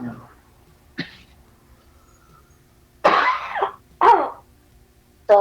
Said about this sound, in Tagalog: Sorry. Inuubo ako.